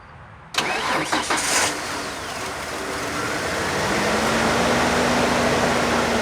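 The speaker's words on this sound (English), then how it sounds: "Let's see if the truck starts." A truck engine cranks and catches after a quiet moment, with a few sputtering surges before it settles into a steady, close, rumbling idle.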